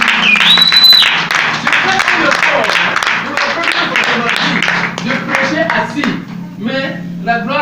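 A church congregation claps and cheers during a French-language sermon, dense applause filling the room under a preacher's voice, with a brief high whoop early and the clapping thinning toward the end.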